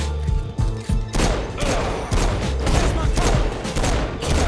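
Rapid submachine-gun fire in the Saints Row IV video game, a loud, continuous fusillade of overlapping shots and thuds that keeps going from the first second to the end.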